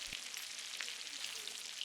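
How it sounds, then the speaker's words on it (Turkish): Steady high sizzle of salmon rolls frying in butter, a continuous close crackling hiss with a brief soft knock near the start. "Somon rulolarını her iki tarafı da kızarana kadar her iki tarafı 5 dakika kızartın."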